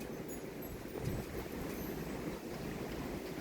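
Steady, full roar of strong wind during a heavy thunderstorm in southeastern Pennsylvania, a continuous broadband rush with no breaks or distinct gusts and no talk.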